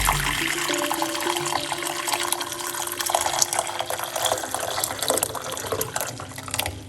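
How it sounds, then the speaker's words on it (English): Hot water pours steadily into a medium-sized pot, a close, continuous gushing stream with a rising pitch as the pot fills, running unbroken and without talk. "we're going to put some hot water"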